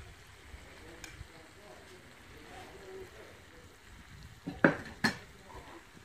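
Lamb liver with black pepper and hot paprika is stirred in a pan over a wood fire: soft scraping and faint sizzle, then two sharp metallic clinks of the utensil against the pan near the end.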